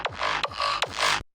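Hardstyle remix kick processed with a retro colors or Saturn effect: three punchy, distorted thumps with gritty, saturated midrange tails between them, rhythmic and fairly quiet, no talking.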